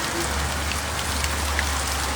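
Heavy rain from Cyclone Remal pours down on an office rooftop, a dense, steady hiss of drops striking surfaces close by, with no voices.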